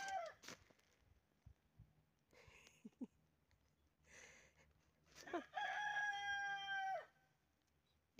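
A rooster crows once at a rural Kabyle home between house and field, a clear, fairly loud call in the later part, after scattered faint yard sounds.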